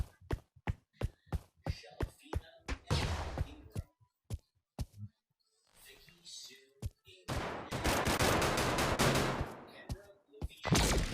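Sharp gunshots crack out in the VR shooter Pavlov, a run of separate single shots followed by longer bursts of rapid fire, loud and close with brief quiet gaps between volleys.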